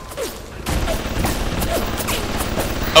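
Bursts of turret gunfire in the video game Bioshock, a rattling run of close shots over ambient game noise, with faint voice-like sounds in the mix.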